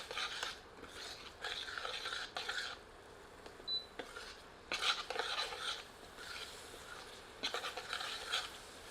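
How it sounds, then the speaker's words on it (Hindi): Kadaknath black chicken being stirred with onions in a pan, a soft scraping and sizzling with repeated bursts of ladle strokes at an irregular rhythm, close and fairly quiet. "इसे प्याज के साथ अच्छी तरह मिलाते हैं।"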